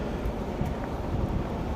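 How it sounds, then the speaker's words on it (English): Steady low rumbling wind noise buffets the microphone throughout, a continuous outdoor roar with no voices. "So if you hear some wind in the background, I apologize."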